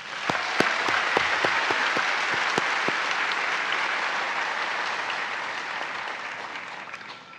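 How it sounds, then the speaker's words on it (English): Audience applause at a cherry blossom festival opening ceremony, a few sharp early claps swelling into a steady, full round that slowly tapers off. "Let's give another round of applause for the enormous talent and artistry we have witnessed so far."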